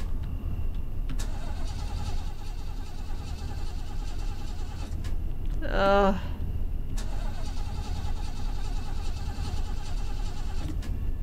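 A car engine in the horror game Fears to Fathom: Norwood Hitchhike fails to start, giving one short, sputtering crank midway over a steady low rumble, with a brief groaned voice.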